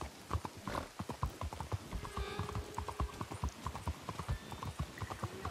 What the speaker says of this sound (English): My horse is too slow.